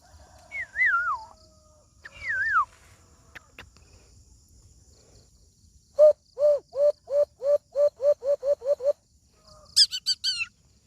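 A person whistles an imitation of a sunbird call: first a few wavering, sliding notes, then a quick series of short, bright chirps, and finally a high, rapid trill.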